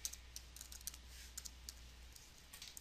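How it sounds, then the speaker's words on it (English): Keys tapped on a computer keyboard while entering a password, soft irregular clicks in short bursts at a quiet, close level with steady low background hum and no talking. "You're also going to type in your regular password"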